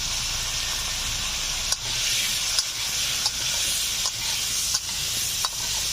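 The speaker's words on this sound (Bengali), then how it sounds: "এই তেলে আলুগুলোকে দিয়ে দেব।" Potatoes fry in oil with salt and turmeric, giving a constant loud sizzle punctuated by about six regular scraping stirs of a spatula in the pan, with no talking.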